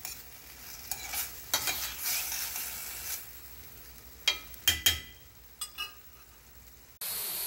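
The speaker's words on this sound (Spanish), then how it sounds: "Por eso trato de aplastar lo más que pueda el tomate en esta preparación." Tomato is stirred and pressed down in a pan with a utensil, faint sizzling broken by several sharp scraping knocks in small clusters, close, ending in an abrupt shift to a louder, duller background.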